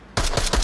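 Rapid burst of gunfire in the VR shooter Onward, a loud, dense string of closely spaced shots starting abruptly and continuing without pause.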